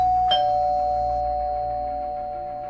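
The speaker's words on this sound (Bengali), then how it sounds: "ঠিক তখনই কলিং বেল" A single electronic doorbell chime rings out in a flat's quiet interior, one bright struck tone followed by a long sustained ring that slowly fades, close and alone against faint background hum.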